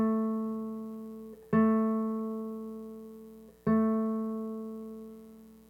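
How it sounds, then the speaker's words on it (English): Acoustic guitar sounding an A220 note, plucked twice with a clean sustained tone that slowly decays between attacks, alone and fairly quiet. "Let's consider a situation where I take my guitar and I play A220."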